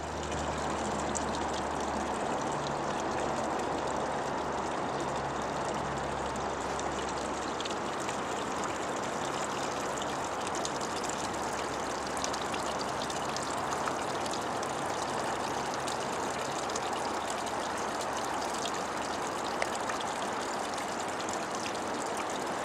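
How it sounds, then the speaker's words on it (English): A stream runs in front of a house, a steady, broad rush of flowing water that continues without a break, with a faint low engine hum underneath early on. "it runs into the stream right here in front of my house"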